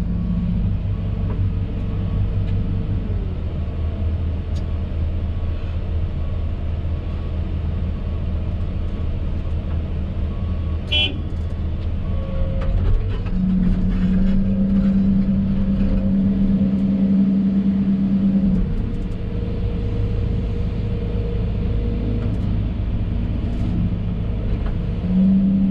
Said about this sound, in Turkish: kamyonlar gelmeye başladı.